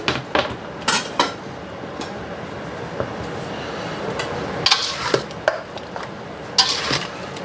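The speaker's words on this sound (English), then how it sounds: "we're going to get this all nice and mixed up and incorporated together" Pork belly being tossed with garlic and ginger in a bowl, with scattered clinks of a utensil against the bowl and soft wet stirring, near and moderately loud, with no talking.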